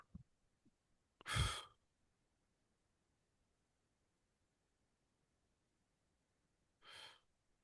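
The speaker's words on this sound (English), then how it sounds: "nice breath out." A person breathing out slowly and audibly during a calming exercise: two soft, drawn-out exhales, the first longer and stronger, the second shorter, each surrounded by near silence.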